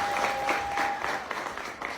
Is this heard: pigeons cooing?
no